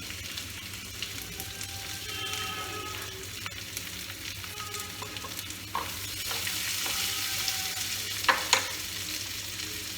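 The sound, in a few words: onions frying in a pan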